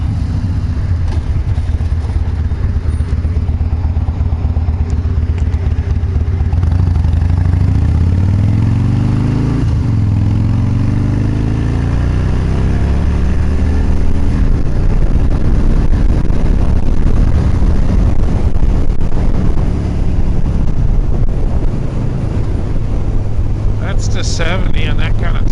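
A Harley motorcycle with a stage 2 racing tune, its engine idling and revving in a steady loud rumble that rises and falls in pitch, continuous and close for the whole stretch.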